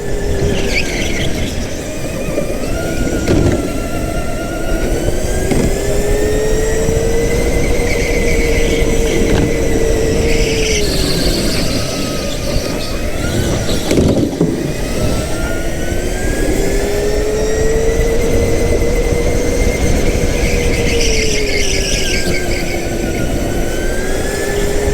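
A go-kart engine racing around the track at a Boss Pro Karting challenge night: a loud, constant high-revving whine that rises and falls in pitch through the corners, close up and continuous throughout.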